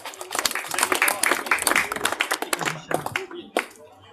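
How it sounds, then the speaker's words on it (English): An audience breaks into applause for a guest cricket bat maker, bursts of close, crisp hand claps that swell and then thin out toward the end, with talk mixed in. "Would you please give him a round of applause"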